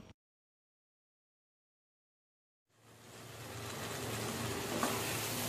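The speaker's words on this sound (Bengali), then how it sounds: "এবার মশলাটা ভালোভাবে নাড়াচাড়া করে আমি দশ থেকে বারো মিনিটের মতো কষিয়ে নিচ্ছি" Spice paste of ginger-garlic masala fries in hot oil, a steady, dense sizzle rising after near silence and continuing evenly to the end.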